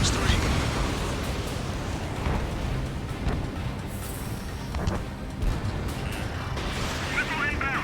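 Missile launches and explosions in a jet combat video game, a dense roaring rumble of engines and blasts running continuously with bursts and a few bright warning-tone beeps, heard under radio voices.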